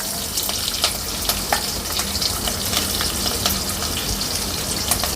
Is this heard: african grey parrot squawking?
no